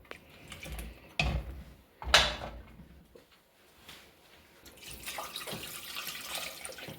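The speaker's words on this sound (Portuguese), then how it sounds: "Vou colocar mais água" More water goes into a soup pot of meat and vegetables: a couple of knocks and clanks of the container, then a quieter stretch of pouring and splashing that builds toward the end, close by.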